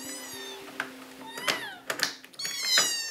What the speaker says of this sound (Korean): 오, 새끼 고양이네요.